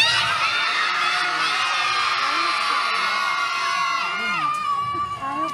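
A crowd of children shouts and cheers together in a sustained, loud wave of voices, with whoops and yells rising over the din throughout.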